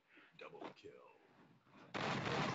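Gunfire in a shooting video game match erupts loudly near the end, a dense burst following a quieter stretch of faint voices and game sounds.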